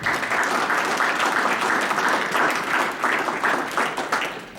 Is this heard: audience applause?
yes